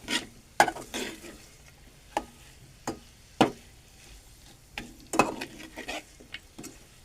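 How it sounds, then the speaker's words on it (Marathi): Dal with masala and ghol leaves being stirred in a pot, irregular spoon scrapes and soft clanks against the metal over a quiet, faint sizzle. "सगळा एकत्र करू आपल्या, जेणेकरून तो आपल्या मसाल्याला लागून जाईल."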